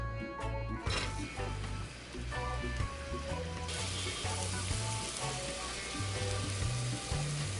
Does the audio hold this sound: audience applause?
no